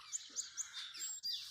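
Baby birds that have fallen from their nest chirp near a cow barn entrance, giving a quick run of high, thin peeps in a loose rhythm, fairly faint and close by.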